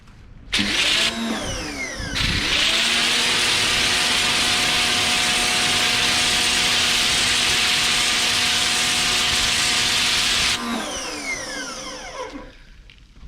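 A Nilfisk pressure washer blasts water through its supplied lance, a loud steady hiss over a motor hum that kicks in after a brief start and holds for about eight seconds before cutting off and winding down.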